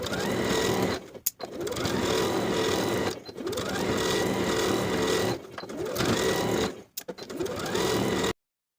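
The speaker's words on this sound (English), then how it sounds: "Optionally, you can baste along the bottom raw edges all the way around" A sewing machine bastes the bottom raw edges of a shorts waistband, fast steady stitching bursts broken by four brief pauses, close and alone.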